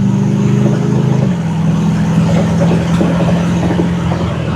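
A 1973 Chevrolet Corvette rolls along a bumpy road, heard from inside as a loud, steady low engine drone with road rumble and faint rattling thumps throughout.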